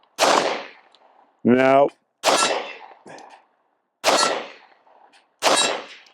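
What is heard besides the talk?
pistol shots at 45 yards hitting steel target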